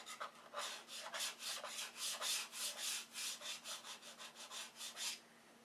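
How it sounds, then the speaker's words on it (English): Fine nibs are rubbed off painted trim by hand with light strokes, giving a steady rhythmic series of soft scratchy swishes, about a dozen back-and-forth passes, close and alone. "Just a matter of rubbing it long enough."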